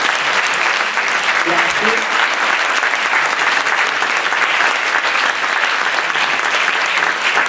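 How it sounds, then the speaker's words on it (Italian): An audience applauds in a dense, sustained burst of clapping that stays loud and even from start to finish, with one brief spoken word heard over it. "Un bel applauso a tutti"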